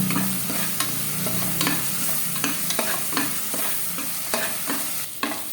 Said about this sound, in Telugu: ఇందులో అల్లం వెల్లుల్లి పేస్ట్ వేసుకొని దాన్ని కూడా పచ్చివాసన పోయే వరకు బాగా ఫ్రై చేసుకోవాలి